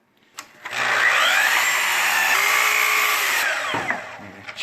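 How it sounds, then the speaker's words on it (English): A small piece of wood is cut as it turns on a lathe, giving a steady, loud rasping whir that starts abruptly, holds for about two and a half seconds and then stops, with a few faint knocks around it. "just take a little cut of this wood"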